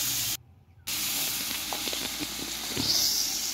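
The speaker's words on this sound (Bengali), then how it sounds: "জাস্ট এপিট ওপিট উল্টে ভেজে নেব, খুব বেশি কড়া করে ভাজবো না।" Prawns frying in oil, a steady faint hiss and sizzle with a few small pops and a brief gap, without any talking.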